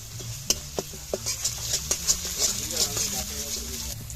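Garlic paste browning in a pan as ginger paste is added for a cabbage and egg dish, giving a steady sizzle with scraping stirs and light pan knocks, under faint background talk.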